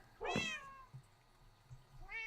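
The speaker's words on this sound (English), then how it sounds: "There's another cat there." A cat in the Minecraft video game meows twice, a clear, moderately close mew followed by a shorter one near the end, over a faint background hum.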